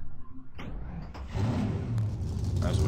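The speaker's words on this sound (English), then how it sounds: "Start your engine." Racing car engine in the NR2003 NASCAR racing game starting up and revving, a rising engine roar that swells after a quiet start and holds loud and steady.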